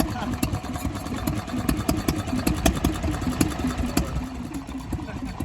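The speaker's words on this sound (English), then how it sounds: "Ronaldson Tippett model, a Type O. I believe this engine's pretty rare." An antique Ronaldson Tippett Type O stationary engine runs at a show, a close, steady idling chug with rapid regular firing knocks and a low mechanical rumble.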